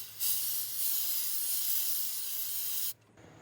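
Aerosol brake cleaner sprays onto engine parts of a 2004 Ford F150 with the 5.4 3V engine during a timing job: one steady, loud hiss lasting nearly three seconds, then stopping abruptly, with no talking.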